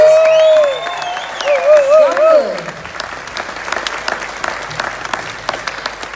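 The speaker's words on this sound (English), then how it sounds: "how about a massive round of applause" Concert audience applause at TRECC in Tamworth, a spoken voice over the first seconds giving way to sustained crowd clapping with light cheering that carries on steadily to the end.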